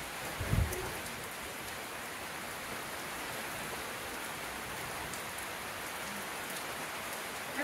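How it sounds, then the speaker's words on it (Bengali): Steady rain falls in a village, an even soft hiss of drops on surfaces throughout, with a brief thump near the start and no talking. "এই বৃষ্টিতে কবে কমবো?"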